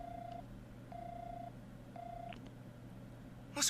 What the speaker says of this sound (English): Lloyd called the phone number he received.